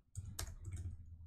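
A few quick keystrokes tap on a computer keyboard, faint and close, in a brief burst.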